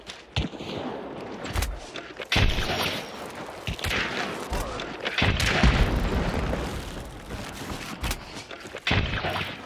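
Repeated gunfire in the video game Hunt: Showdown, sharp booming shots and bursts scattered across the stretch, some close and loud, others trailing off, with brief gaps between volleys.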